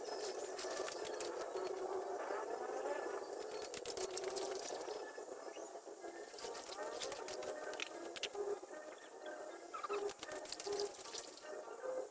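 Flood water pours and rushes into a mango orchard, a continuous close splashing flow with faint birds in the background and no talking.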